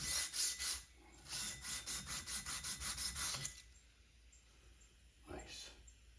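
Metal file scraping burrs off the edges of a metal side part for an Odds'n Ends hit-and-miss engine, in a series of quick rhythmic strokes up close, then a pause and one last short rasp.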